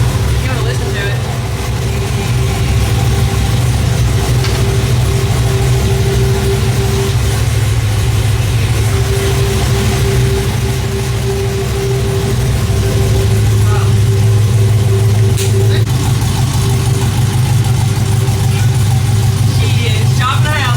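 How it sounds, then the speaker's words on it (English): A close engine with an exhaust leak idles loudly and steadily with a rough, ticking exhaust note, its low drone constant throughout while people talk nearby. "like we have an exhaust leak over here"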